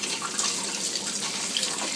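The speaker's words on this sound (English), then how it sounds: "Let's wash it with the soapy water," Running tap water splashing in a kitchen sink as jars and lids are washed in soapy water before pickling beets, a steady close wash with no talking.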